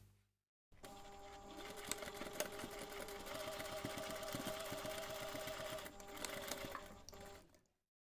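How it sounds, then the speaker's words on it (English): A sewing machine top stitches along the finished seams of a laptop bag, running in one faint, steady whirr for about seven seconds before winding down. "take this to the machine and top stitch along those finished seams"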